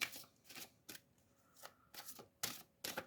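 Cards being shuffled close up during a rune and card reading, a series of quick riffling bursts with short pauses between them, no talking.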